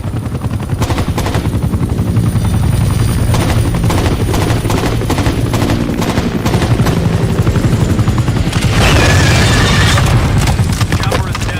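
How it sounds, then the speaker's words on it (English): Helicopter escaping in the video game Rainbow Six 3 Black Arrow: a loud, steady rotor thump and engine roar with gunfire bursts mixed in, growing harsher near the end. "He's using a chopper to escape."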